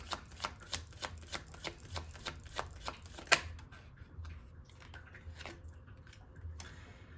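Tarot cards are riffled and shuffled in a quick, even run of crisp slaps, with one louder snap partway through, then softer scattered flicks as cards are drawn.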